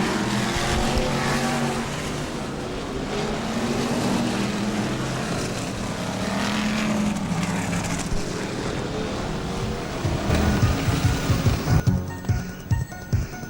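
BriSCA Formula 1 stock cars race at Northampton, a loud continuous roar of several engines revving and passing, with a burst of rougher, choppier engine noise near the end.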